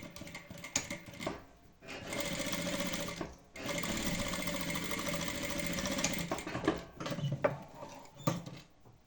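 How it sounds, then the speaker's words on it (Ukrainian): A sewing machine stitches a seam on a padded fabric phone-stand cushion, its motor running in steady, close bursts of rapid needle chatter broken by short pauses. "По цій лінії виконаємо строчку обов'язково закріплено."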